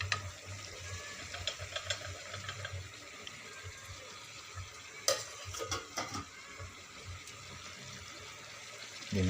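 Raw prawns being stirred through a pan of frying sour gongura curry base, giving soft scraping and wet sizzle with intermittent spoon knocks against the pan, steady and close.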